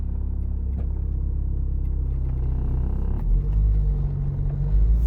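A car drives along steadily during a driving exam, its engine rumble and road noise holding a constant low drone that swells slightly toward the end, with no talk.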